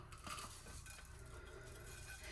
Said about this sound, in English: we're gonna dump in a couple cups of coconut, and we're just gonna stir it constantly